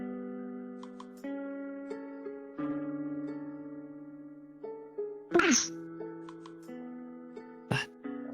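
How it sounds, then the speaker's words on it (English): A single sharp sneeze, close and loud, bursting over a background of steady electronic music tones in a VRChat roleplay session, followed a moment later by a shorter second burst. "Was that sneeze?"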